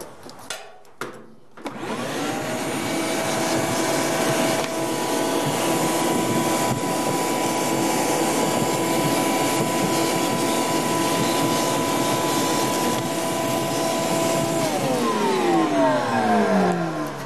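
A vacuum cleaner, used to clean around a clothes dryer motor, starts after a few knocks and runs with a steady loud whine and roar, its pitch sliding down near the end.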